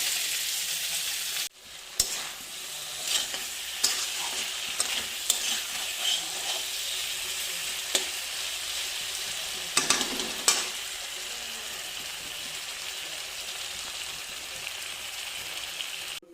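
Potatoes and paneer curry fry in a pan with a steady close sizzle, while a spoon scrapes and stirs in repeated short strokes; no one speaks.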